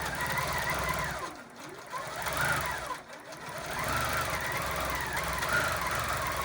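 A sewing machine stitching a quilt with a ruler foot runs loudly and close, its motor whirring steadily with rhythmic mechanical knocking that speeds up and slows down in waves as it moves.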